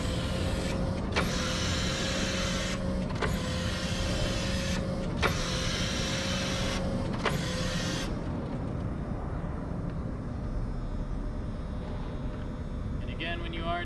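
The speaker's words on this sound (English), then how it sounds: "your last lever on the end here is going to be your side shift" The electric side shift of a Lift Hero CPD20 4,000 lb lithium-ion forklift runs as a steady whine with a constant hum, broken by several brief pauses, then cuts out and leaves quieter background noise.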